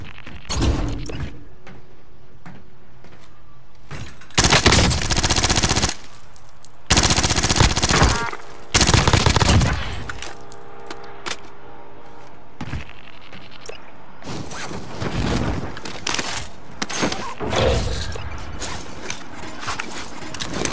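Bursts of DMR rifle fire in a Call of Duty: Warzone match, loud sharp volleys repeating in clusters with quieter gaps of mechanical clatter between them.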